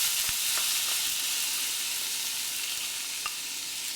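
A steady, bright sizzle rises from roasted moong dal frying in a pot as washed rice is added, with a couple of faint taps from the spoon under the continuous frying.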